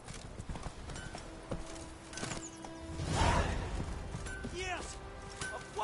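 A horse galloping in The Witcher III, a rapid run of hoofbeats with a brief whoosh midway, heard close with a voice speaking over it.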